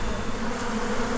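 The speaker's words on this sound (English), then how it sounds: "I noticed some bees gathering at the very bottom of the box" Honey bees buzz in a beehive box, a dense continuous drone that is close and loud.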